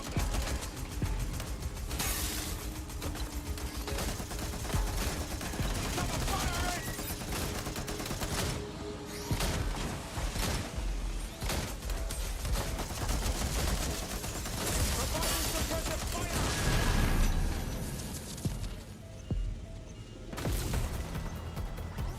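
Sustained suppressive gunfire in Watch Dogs: Legion, dense overlapping bursts and mechanical clatter running for over twenty seconds at steady loudness, with faint voice traces mixed in.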